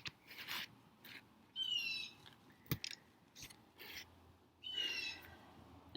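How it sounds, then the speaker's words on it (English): A bird calls outside with repeated sharp, shrill chirps and trilled whistles, coming in short bursts with quiet gaps between them, moderately close and with no talking. "That bird's really annoying"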